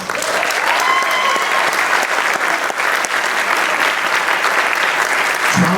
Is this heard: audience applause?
yes